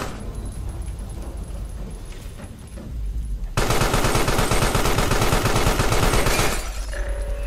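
Rapid bursts of gunfire in the horror video game Carrion, loud and dense through the second half after a quieter, murky stretch, with no talk over it.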